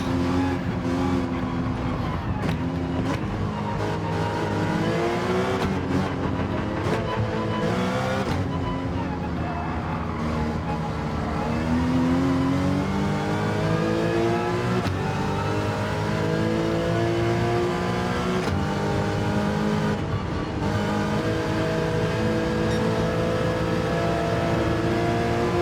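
Porsche Cup race car engine, loud and close throughout, with sustained rising and falling harmonic revs as it brakes hard into a corner and accelerates back out, steady and continuous with no pauses.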